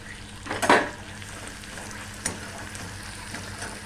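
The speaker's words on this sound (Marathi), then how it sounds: "लसूण खोबरा एक तीस सेकंद हलवून घ्यायचं" Garlic and coconut fry in a pan with cumin, asafoetida and curry leaves, giving a steady low sizzle and one brief louder burst of stirring near the start.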